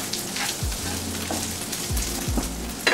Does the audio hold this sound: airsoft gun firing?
no